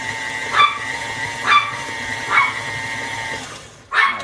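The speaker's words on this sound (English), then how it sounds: "Sorry, you can hear my dog." A dog yips and whimpers in a home kitchen during muffin baking, with three short high-pitched cries spaced about a second apart and a fourth near the end. The sounds are fairly close and stand alone without talk.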